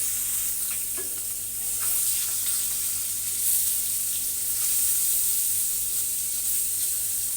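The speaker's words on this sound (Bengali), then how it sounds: "বাকি মাছগুলোও কিন্তু ভেজে নেবো একইভাবে" Koi fish from a wetland frying in hot oil in a pan, giving a loud, continuous close-up sizzle and hiss with occasional faint stirring, and no voices.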